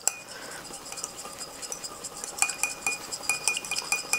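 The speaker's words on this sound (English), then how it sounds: "I'm just gonna whisk it up" A hand whisk beating hollandaise sauce in a bowl, quick rhythmic metallic clinks and taps, close and moderately loud, picking up pace toward the end.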